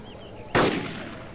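A single sharp gunshot in a cops-and-robbers multiplayer video game bank shootout cracks out loud and close, then rings off in a decaying tail.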